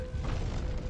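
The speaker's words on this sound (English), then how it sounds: "shock bomb" A shock bomb detonates in the video game Horizon Zero Dawn, a brief deep booming blast with rumbling low end, loud and sustained across a single second.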